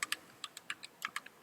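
Computer keyboard keys are pressed in a quick, uneven run of about ten crisp clicks, close and fairly quiet, with no voices over them.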